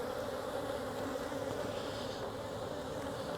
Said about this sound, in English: Already I can see bees are making their way.